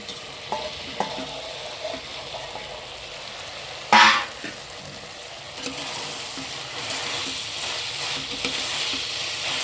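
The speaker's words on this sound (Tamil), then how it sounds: "இந்த மீல் மேக்கரெல்லாம் இதில் சேர்த்துடலாம்" Soya chunks (meal maker) fry and get stirred in biryani masala, a steady sizzle running throughout with scattered scraping of the spoon and one sharp, louder clatter near the middle; no one speaks.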